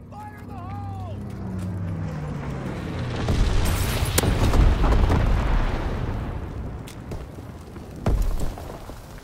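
Incendiary bomber strike in the Call of Duty WWII game at London Docks: a deep, rolling roar of explosions swells to a sustained rumble and then fades, with a sharp boom near the end and radio-style voice lines early on.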